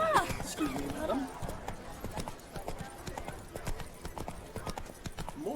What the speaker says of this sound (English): More abandoned horses.